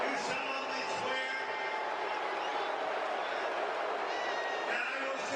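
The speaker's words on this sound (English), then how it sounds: "You can hear the booing, right? It's like pretty obvious that he's getting booed there." A crowd boos the president during the oath of office at an inauguration. The steady, roaring crowd noise runs under a voice speaking throughout.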